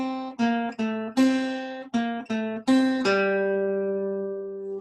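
Guitar picking the opening bars of a theme: a brisk run of about nine bright plucked notes, close and clean, ending on a held note that rings out and fades.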